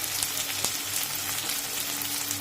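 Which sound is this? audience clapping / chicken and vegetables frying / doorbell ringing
chicken and vegetables frying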